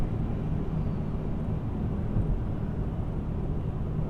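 A 2014 Chevrolet Cruze Eco with a Stage 2 kit and cold air intake drones from inside the cabin, a steady low engine and road rumble holding constant throughout with no voices.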